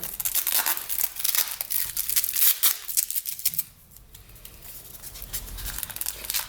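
Plastic and paper crinkle and tear loudly and continuously as cargo packages padded with cotton are unwrapped up close, with a brief quieter pause midway.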